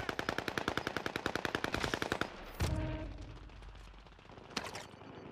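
Rapid automatic gunfire in the Warzone video game, a fast even burst of about two dozen shots, then two sharp single cracks with echoing tails, loud and alone.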